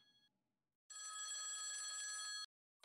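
An old-style telephone bell rings in the video game Project Selene, one sustained, bright metallic burst of ringing after a moment of near silence, then cutting off abruptly.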